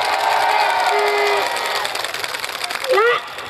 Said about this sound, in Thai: ฟังเสียงตบมือหน่อยค่ะ